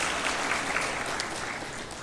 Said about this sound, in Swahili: tumpigie makofi huyo